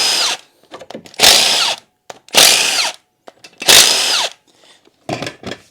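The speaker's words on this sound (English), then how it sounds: "I'll remove all these smaller 10mm bolts." Power tool spins out small 10mm bolts from the engine of a Honda Rubicon ATV in three loud, whirring bursts of about a second each, with lighter clicks and taps in the gaps between them.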